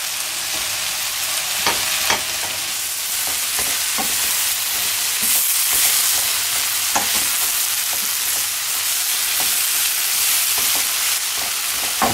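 Minced meat with eggplant, basil and added oil frying in a pan over high heat, a steady loud sizzle with frequent sharp clicks and scrapes of stirring throughout, no voices.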